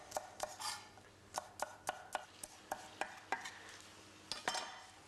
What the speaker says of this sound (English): I'm just going to chop up some spring onion